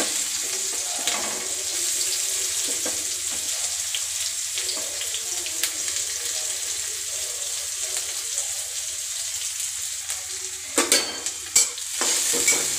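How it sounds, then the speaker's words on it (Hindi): Finely chopped onion crackles in hot oil on a high flame, a dense, loud sizzle that runs throughout, with a few scraping stirs near the end. "अब इसी में बारीक कटी हुई प्याज डालते हैं।"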